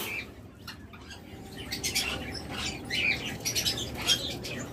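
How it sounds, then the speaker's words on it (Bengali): Tiny quail, among the world's smallest species, call in a pen with short squawks and chirps scattered over a low background hum, fairly close and with no talk. "পৃথিবীর সবথেকে ছোট প্রজাতির কোয়েল পাখি এগুলো"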